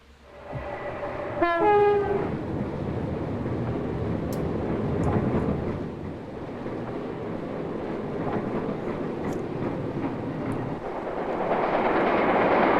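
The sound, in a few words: fast train passing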